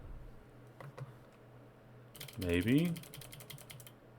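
A scattered burst of rapid clicks from a wireless computer keyboard, sparse taps first, then dense irregular typing over a low hum, with one short spoken word in the middle.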